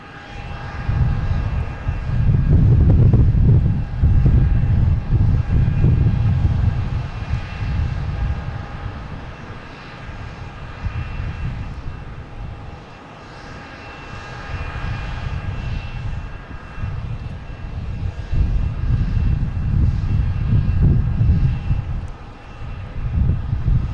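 Jet engines of a British Airways airliner at Boston Logan Airport rumble loudly, swelling and easing in long waves of heavy low roar with a faint high whine, and no voices.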